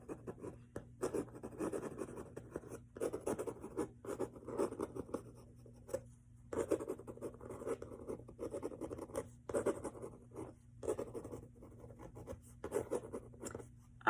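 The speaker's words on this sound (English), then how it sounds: "Another thing I could be adding in here is just if I wanted to do just some writing." Scratchy strokes of writing on a gouged mixed media art piece, close and fairly quiet, coming in uneven bursts with short pauses between words.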